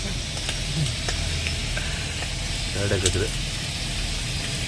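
A steady hiss of an omelette sizzling in hot oil on a griddle fills the clip, with faint voices and a few soft clinks behind it.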